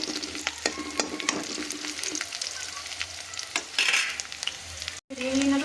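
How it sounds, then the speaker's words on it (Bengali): Well-fried chopped onion sizzles in mustard oil while a spatula scrapes and knocks against the pan, with a brief pause near the end before the crackling frying resumes. "পেঁয়াজটা খুব ভালোভাবে ভাজা হয়ে গেছে"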